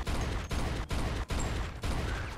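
Rapid bursts of gunfire in the video game Mafia II, several loud sustained volleys broken by brief gaps, dense and close.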